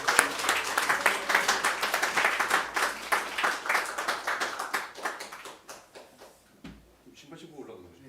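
A church congregation claps for a visiting missionary, starting as dense, lively applause and thinning to a few scattered claps that fade out near the end.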